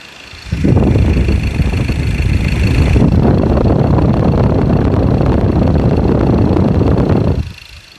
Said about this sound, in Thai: เครื่องเสียงเครื่องยนต์ก็ประมาณนี้นะครับ